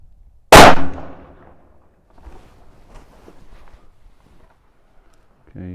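A single sharp, loud rifle shot fired at a target cracks out early and decays quickly, followed by faint shuffling and handling noises, with a voice starting at the very end.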